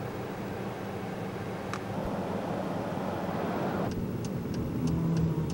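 Steady road and engine rumble inside a car driving along the Galveston coast on the Gulf of Mexico, an even hum with a few faint clicks near the end and no talking.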